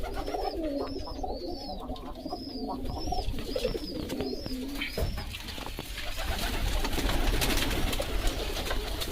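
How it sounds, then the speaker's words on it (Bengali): Pigeons in a home pigeon loft give soft, repeated rolling coos close by for the first several seconds, then a rougher, busier rustle takes over. "আজকে আপনাদের দেখাতে চলেছি কতগুলো পায়রা আছে কতগুলো বাচ্চা হয়েছে দেখাবো"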